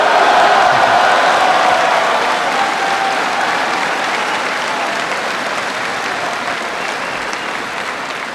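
Loud, dense applause from a large audience during a speech on ending the war in Iraq, with some cheering mixed in, strongest at the start and slowly tapering while staying continuous.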